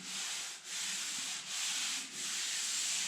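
Continuous abrasive rasping of sandpaper sanding body filler off a car, steady strokes with three brief pauses, close and fairly quiet.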